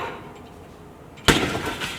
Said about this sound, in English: The impact of this heavy wheel crunched in the windshield.